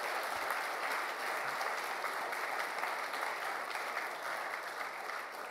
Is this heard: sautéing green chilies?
no